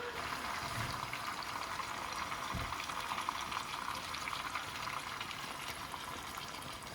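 A steady hiss and sizzle of water poured into a hot pan, continuous for several seconds, with a faint thump partway through.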